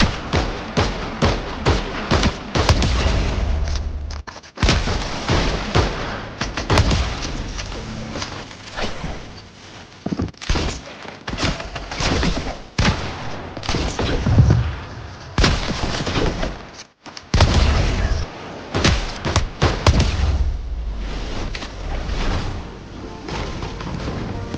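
Rapid, dense gunfire crackles almost nonstop in the Fortnite Reload video game, with loud repeated shots and thumps forming a busy, continuous battle din.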